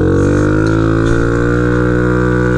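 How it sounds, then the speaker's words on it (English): A Honda Ruckus scooter engine with a new exhaust and stage 2 go-fast kit idling steadily with a deep, even exhaust drone, loud and unbroken throughout. "there you guys got a little bit of a sound test on this new exhaust."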